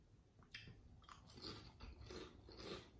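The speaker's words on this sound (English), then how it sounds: "You can obviously hear the crunch." Several crisp crunches from biting and chewing spicy salmon skin chips, close and quiet, coming in an uneven rhythm of distinct bites with no talking.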